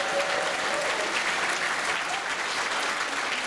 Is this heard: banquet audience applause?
yes